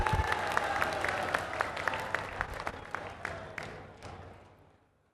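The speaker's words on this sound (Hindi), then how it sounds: "तालियां बजाकर एक बार स्वागत किया जाना चाहिए मेरे दोस्तों" A crowd at a political rally claps in welcome for former soldiers, with sharp individual claps standing out from the mass. The applause is loud at first, then thins and fades out over a few seconds.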